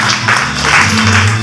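Applause for a planned surprise for fathers: steady, dense clapping from a small group fills the whole short stretch at a fairly loud level, with no voices standing out.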